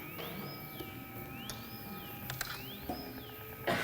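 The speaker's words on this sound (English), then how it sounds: "So this is the sound of space. It's mathematically correct." Sonified space data rendered as electronic tones: steady high and mid drones with a sweeping whistle that rises and falls three times, plus scattered soft clicks, faint and alone.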